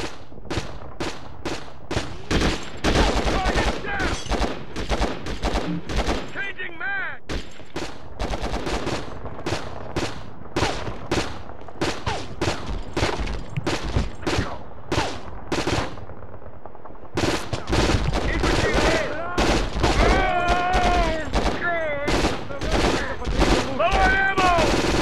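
Sustained automatic gunfire and rapid shots from the PS2 game Conflict: Global Terror, loud and dense bursts with a brief lull midway, mixed with shouted voices in the battle.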